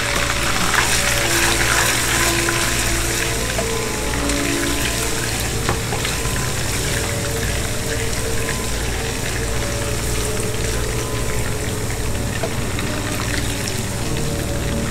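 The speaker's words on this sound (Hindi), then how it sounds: "3-4 कड़ी पत्ता और 3 अदर लौंग डालेंगे और इसको अच्छे से फ्राई करेंगे।" Curry leaves and cloves fry in hot oil in a pan for a dal tadka, giving a steady, loud, continuous sizzle with no talking.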